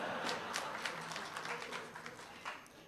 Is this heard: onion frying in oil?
no